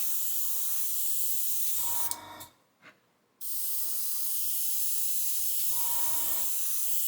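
A steady, close hiss of an airbrush spraying acrylic paint onto plastic, cutting off briefly into near silence before the spray resumes and continues evenly.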